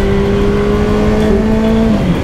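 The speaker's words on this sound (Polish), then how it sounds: "Sprawdzamy osiągi Kawasaki Z125." A Kawasaki Z125 motorcycle pulls hard during a performance run, a loud, steady engine whine rising slightly in pitch before easing off near the end, with heavy wind rush underneath.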